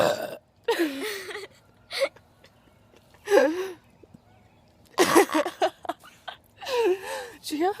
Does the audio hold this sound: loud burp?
yes